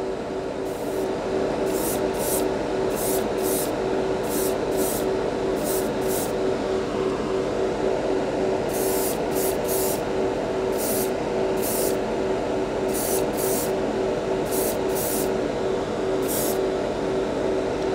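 Continuous hissing spray from a Grex Tritium TG3 airbrush spraying graphite enamel over black primer, over a steady hum, with short bursts of higher hiss recurring as the spraying pulses on and off.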